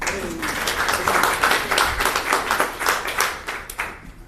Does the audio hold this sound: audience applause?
yes